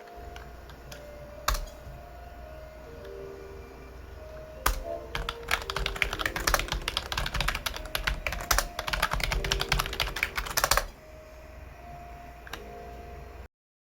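Fast typing on a computer keyboard for Final Fantasy XIV chat: a few isolated key taps, then a dense rapid burst of clicking for several seconds before it tapers back to occasional taps.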